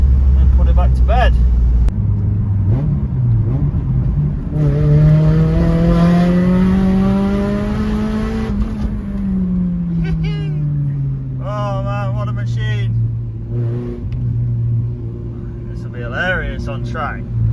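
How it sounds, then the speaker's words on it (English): Water-damaged 1999 Honda CR-V with a swapped B18 VTEC engine revs up in a quick rip, pitch climbing steadily then falling back, loud and close inside the cabin with someone talking over it. "Quick rip, see if we've got a bit of V-Tec"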